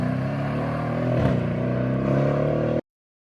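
A Mercedes W222 S-Class with the 5.5-liter M157 V8 drones loudly and steadily nearby, with a brief throttle blip midway, then cuts off abruptly.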